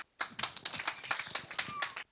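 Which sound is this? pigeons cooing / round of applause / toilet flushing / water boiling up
round of applause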